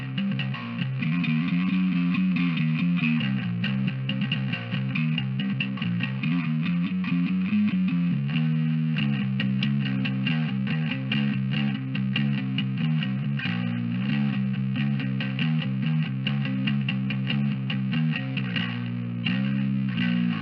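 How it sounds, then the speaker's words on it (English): Bass guitar run through a stoner rock overdrive pushed into distortion, playing heavy trudging triplet riffs with a thick, saturated, sustained tone throughout. "I like to use it on bass as sort of that stoner rock overdrive into distortion territory"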